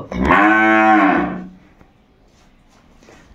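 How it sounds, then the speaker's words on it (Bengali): An improved-breed dairy cow at a small farm in Dinajpur gives one loud, drawn-out moo at evening as it walks into the barn, followed by near silence. "এই যে গরুটি ভিতরে আসছে"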